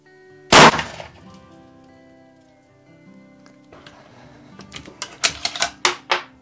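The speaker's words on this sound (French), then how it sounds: "on a tiré la première balle" Single rifle shot fired at a target while zeroing a PARD scope, one sharp, loud crack near the start that decays quickly, followed later by a series of clicking ticks.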